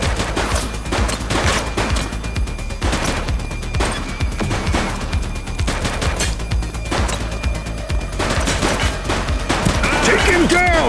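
Sustained bursts of police gunfire rattle through a shootout in The Precinct video game, loud rapid volleys and single cracks overlapping across the whole stretch, with shouted voices in the fray.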